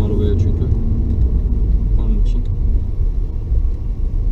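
Opel Corsa E 1.4 Ecotec with a six-speed automatic gearbox droning loudly while driving, a heavy low engine rumble with road noise, and people talking inside the car over it.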